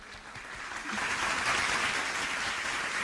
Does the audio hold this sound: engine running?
no